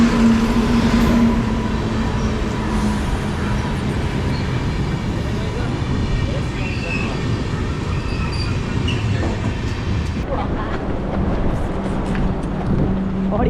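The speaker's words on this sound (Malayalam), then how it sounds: "അപ്പോൾ അതാ ഇവരുടെ ഫസ്റ്റ് ഇവിടുന്ന് പോകാനുള്ള ട്രെയിൻ അങ്ങ് കിടപ്പുണ്ട്." An Indian Railway train stands at a station, giving a steady loud rumble and mechanical hum with faint metallic squeals and scattered background voices throughout.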